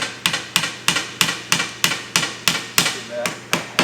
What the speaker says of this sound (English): a little brass hammer is just indispensable